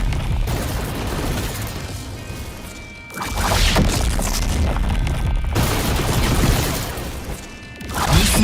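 Lightning Z3 dragon ability from the Blox Fruits game unleashes dense, loud crashing booms and crackling bursts in two long surges with a brief drop between them.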